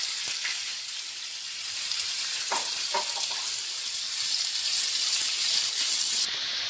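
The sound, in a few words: chicken frying in a pan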